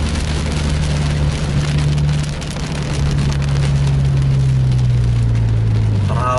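Heavy rain hisses steadily on a sleeper bus as it drives along a road. A low engine drone runs underneath the downpour and slowly falls in pitch near the end.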